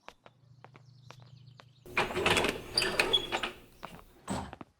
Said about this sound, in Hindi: दरवाजा खोलिए।